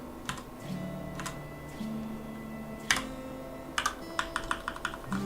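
Brief bursts of crisp clicks from a new clicky mechanical keyboard, starting as a few isolated keystrokes and ending in a quicker typing run, close and clear over a quiet background hum.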